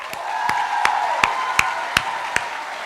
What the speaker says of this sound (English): So if everyone can give a round of applause to Kelly Alvarados